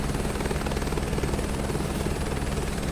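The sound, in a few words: helicopter flying in Microsoft Flight Simulator 2024 video game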